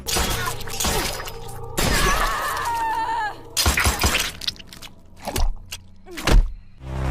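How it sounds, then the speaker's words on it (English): In the Mortal Kombat fighting game, an X-ray move shatters an opponent's hip, shoulder and jaw with gunfire, giving loud crunching breaks and heavy impacts mixed with gunshot-like blasts, whooshes and game sound effects. "uses his gun in his X-ray move to shatter his opponent's hip, shoulder, and jaw"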